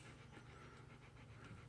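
A dog pants heavily in quick, rhythmic, breathy bursts that repeat steadily through the short, very quiet clip, with no other sounds.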